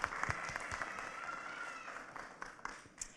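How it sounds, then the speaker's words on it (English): A small audience at a student dinosaur presentation claps, a fairly quiet, thinning patter with a few sharper claps standing out. "let's get a big round of applause"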